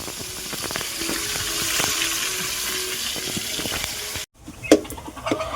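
Steady hissing sizzle of chicken frying in a pan, with occasional clinks and stirring sounds, then a brief pause and a few knocks.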